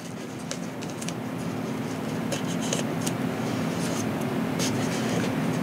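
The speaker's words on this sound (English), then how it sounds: "I just lay my knife down and just start trimming it" A hobby knife shaving and trimming foam on a Sig Kougar model airplane: a steady close scraping rasp with small clicks, continuous throughout and without voices.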